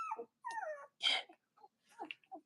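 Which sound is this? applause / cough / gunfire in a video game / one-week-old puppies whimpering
one-week-old puppies whimpering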